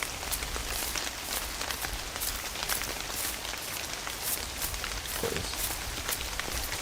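Steady rain falls in the VR hunting game Virtual Hunter on PSVR2, a soft, even hiss of drops pattering on surfaces, constant and fairly quiet throughout with no voices.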